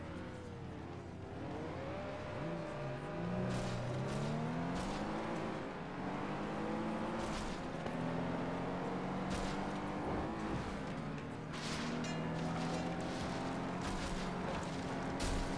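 Racing cars in the video game Flatout 2 rev and accelerate through a chaotic eight-car race, a continuous engine roar with climbing and falling pitch, gear changes and occasional crashes and clatter of debris.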